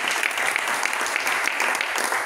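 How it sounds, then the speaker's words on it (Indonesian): A church congregation at a worship service bursts into loud, dense, sustained applause, many hands clapping together close and continuous without talk. "beri tepuk tangan bagi Tuhan Yesus"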